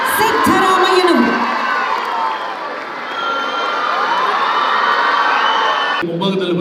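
Loud crowd at a public function cheering, whooping and applauding to welcome Chief Minister Siddaramaiah, a dense sustained roar of many voices with clapping that cuts off abruptly near the end.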